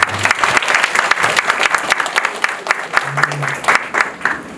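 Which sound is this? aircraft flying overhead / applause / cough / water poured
applause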